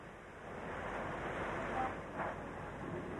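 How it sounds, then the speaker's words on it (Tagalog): Sea waves crash against seaside houses of light material in Barangay Bagong Bayan North, Navotas, during Typhoon Nesat, a steady roar of surf and wind, fairly faint and even, with a couple of brief splashing surges. "Walang kalaban-laban ng mga bahay na gawa sa light material sa hambalos ng alon sa tabing dagat"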